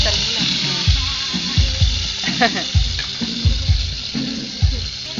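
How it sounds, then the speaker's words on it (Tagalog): Food fries in a pan with a close, loud hiss, joined by repeated thumps and splashy bursts as it is stirred or moved, and faint voices now and then. "Prito na tayo."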